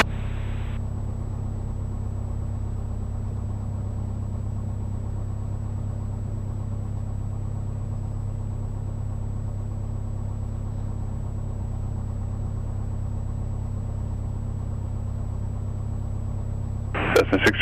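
A Cessna Skyhawk's piston engine idles while holding short of the runway, a steady low drone heard from inside the cockpit throughout, with brief radio talk at the start and end.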